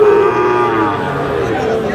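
Cattle at the Aftabganj livestock market, where Sahiwal bull calves are sold, with one loud, close, drawn-out moo that fades into the market's background murmur.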